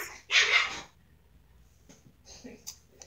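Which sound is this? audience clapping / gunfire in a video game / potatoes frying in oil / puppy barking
puppy barking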